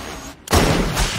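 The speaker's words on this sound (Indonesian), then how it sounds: "Tiba-tiba, snipernya Lana melepaskan tembakan." A sniper rifle shot in an action film, a sudden loud blast after a brief hush, followed by a sustained roaring noise that rings on.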